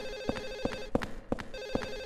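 A telephone rings in Silent Hill 4, a repeated electronic bell tone in short evenly spaced bursts, close and clear with a faint background hum.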